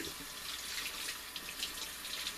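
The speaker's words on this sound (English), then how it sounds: "take cool water and you rinse" Cool tap water runs steadily over corned beef in a sink, rinsing off pickling spice and surface salt: a continuous, even splashing hiss close by with no pauses.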